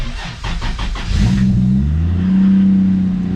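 A Lexus IS300 with a manual gearbox, out of gear and with a fault, turns over and revs up, settling into a loud, rising mid-pitched drone close by, after a few rhythmic cranking bursts.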